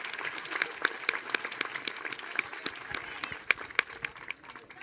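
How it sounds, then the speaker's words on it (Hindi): An audience claps together at a gathering: dense, continuous applause with sharp individual claps standing out, moderately loud and sustained for several seconds, with faint voices underneath. "तो मैं चाहूँगा कि आप तालियां बजा दें"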